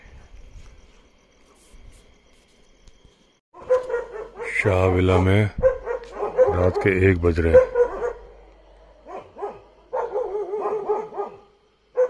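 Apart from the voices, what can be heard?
dogs barking at night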